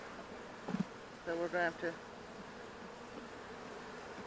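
Honey bees buzz faintly around an opened hive, a soft, thin drone with a couple of brief louder buzzes from bees passing close, while a person speaks briefly nearby.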